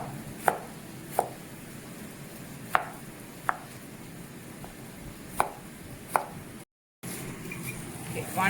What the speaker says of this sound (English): So take one whole tomato and cut it into small pieces like this.